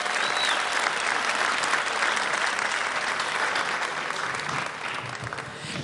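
A studio audience applauds the performers at a live music session, with loud, dense, continuous clapping that holds steady throughout and fades slightly toward the end.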